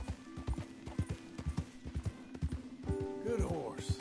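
Horse hooves clip-clop in a steady, brisk rhythm up close in Red Dead Redemption, joined near the end by a tonal whinny-like call.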